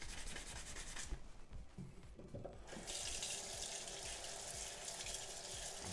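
A toothbrush with whitening toothpaste scrubs a yellowed phone case near running water, giving close, continuous rubbing and brushing strokes with a hiss of water throughout.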